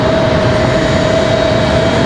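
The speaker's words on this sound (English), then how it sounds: "E175 LR departure." A Republic Airways Embraer E175 LR jet departing Raleigh-Durham airport produces a loud, steady engine roar with a sustained high whine over a low rumble.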